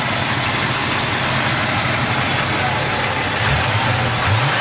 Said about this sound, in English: Little backfire.